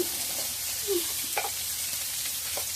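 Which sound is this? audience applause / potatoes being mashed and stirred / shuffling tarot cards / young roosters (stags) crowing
potatoes being mashed and stirred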